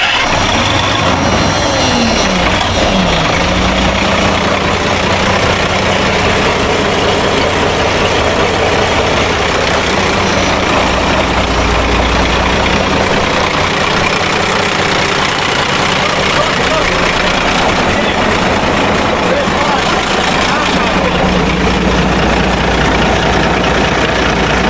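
A FIAT dozer engine idles loudly and roughly after sitting unused for 10 years, a heavy low rumble that continues throughout with mechanical clatter on top.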